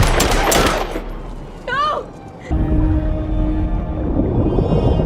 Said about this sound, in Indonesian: hingga akhirnya terjadilah aksi saling tembak